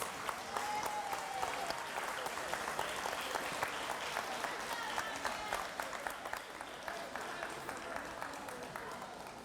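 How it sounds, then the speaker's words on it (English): Steady applause from an employee awards ceremony at a Christmas event fills the room for several seconds, a dense wash of claps with a few voices and whoops mixed in. "Give them a big round of applause."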